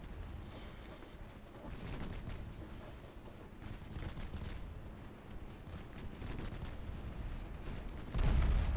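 Warship secondary guns firing at destroyers in a naval battle game: a continuous deep rumble of repeated gun blasts and distant booms, with a heavier low thump near the end.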